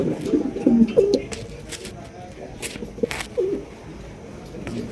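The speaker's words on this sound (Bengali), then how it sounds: "ডিম দেওয়ার জন্য প্রস্তুতি নিতেছে ডিম দিতেছে ম্যাকপাই কবুতর" Magpie pigeons preparing to lay eggs coo in soft, low, rolling calls, with a cluster early on and another a few seconds later, close by amid light background rustling.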